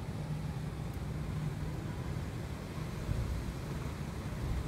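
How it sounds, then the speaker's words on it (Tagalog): Strong wind and rain roar in a dense, steady wash of noise outdoors during a storm, fairly faint and unbroken throughout, with no voices. "may ulan pa saka malakas pa yung hangin oh"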